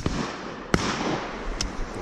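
Shotgun fired at a pheasant shoot gives a sharp, distant crack at mid-clip, followed by two fainter reports, set against steady outdoor wind noise.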